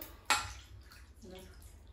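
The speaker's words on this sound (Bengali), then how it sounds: "হাতটা মানে চিপে দিলে পরে, এর মধ্যে ধুয়ে দিলে পরে, তাহলে ডুমুরগুলো পরিষ্কারও থাকবে আর হাতে দাগ হবে না" Figs are squeezed and rinsed by hand in a bowl of water, giving one short, sharp splash followed by faint, quiet trickling and dripping.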